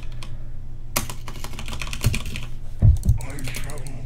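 A computer keyboard is typed on in quick bursts of sharp, close clicks, with brief pauses between runs and a few heavier keystrokes near the end.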